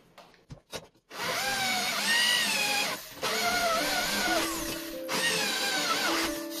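A power drill bores a series of holes for leather fittings in a medieval hounskull helmet's removable mechanism, with several sustained whining runs that rise and fall in pitch, separated by brief pauses, loud and close.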